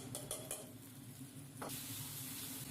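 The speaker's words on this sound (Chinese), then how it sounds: "锅烧热，加入油， 先下入花椒爆出香味， 花椒张嘴后下入小料， 炒香后下入豆瓣酱和火锅料" Sichuan peppercorns and doubanjiang fry in hot oil in a wok. The sizzle is close and steady, with a stir sound and a brief rise in hiss partway through.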